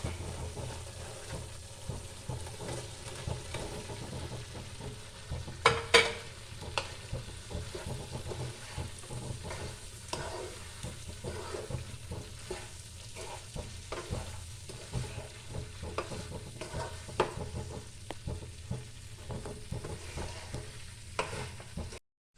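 Dried mango for a Kerala-style pickle fries in hot oil with a steady, close sizzle. Frequent scraping stirs and spoon clicks run throughout and no one speaks.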